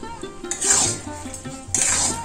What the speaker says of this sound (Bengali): আর এখন নাড়তে হবে, তলায় বসে যাবে।